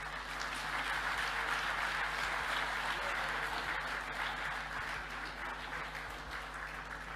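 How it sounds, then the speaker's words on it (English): A large audience applauds at an African awards ceremony, a dense, steady wash of clapping heard from some distance that holds evenly throughout with faint room hum beneath. "shall we applaud him again?"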